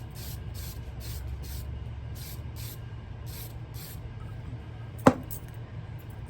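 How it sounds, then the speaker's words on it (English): Glitter glue is sprayed onto a craft rose in a run of short, soft hissing bursts, close and rhythmic, with a single sharp tap near the end. "Spray the glitter glue a good amount."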